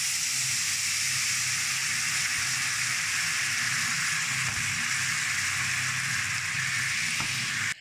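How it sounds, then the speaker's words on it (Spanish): Lemon juice hits a hot pan that has just cooked pork secreto and is stirred in, producing a loud, steady, close sizzle and hiss that holds throughout, then cuts off abruptly at the very end. "En esta misma sartén agregamos el jugo del limón y removemos para que ligue."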